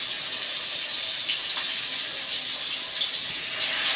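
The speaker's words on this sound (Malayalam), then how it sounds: "കണ്ട, ഇങ്ങനെ ഒന്ന് മുക്കിയിട്ട് ഫ്രൈ ചെയ്യുക." Fish ada frying in coconut oil, a continuous bright hiss and sizzle that holds steady and swells slightly near the end, close and fairly loud with no talking.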